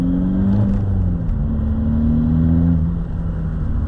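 Cupra TDI diesel car engine revving with turbo pressure building, a loud, steady close-up drone of engine harmonics sliding up and down over a few seconds, no voices heard.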